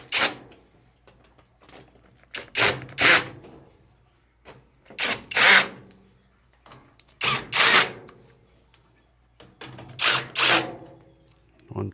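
Repeated bursts of a power drill driving screws into a Maytag washer, each a short whirring run followed by a pause, close by with no talking.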